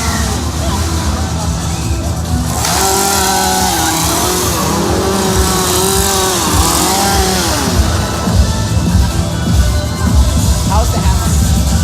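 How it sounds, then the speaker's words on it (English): Chainsaws revving at a Halloween horror attraction, a loud continuous two-stroke engine drone with rising and falling pitch sweeps, heard amid crowd noise and people talking nearby. "But I see tons of chainsaws."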